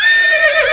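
A horse whinnies once, loud and close, a short shrill neigh that wavers and drops in pitch, played as a sound effect over a live radio broadcast.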